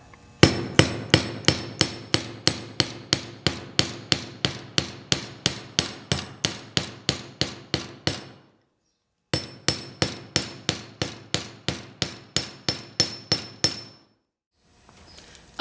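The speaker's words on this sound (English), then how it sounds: "I'm going to take Grandpa's ball peen hammer. I'm going to take it on the flat side and I'm going to start flattening my wire." A ball peen hammer, struck with its flat face, taps copper wire resting on a mouse pad in a long even series of sharp, close blows, pausing briefly midway and again near the end.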